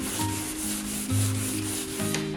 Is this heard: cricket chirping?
no